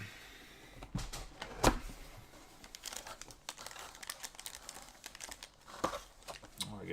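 A box of Topps Chrome Black baseball cards is being opened by hand, with near, irregular crinkling of wrapper and packaging and a few sharper tearing rips and snaps.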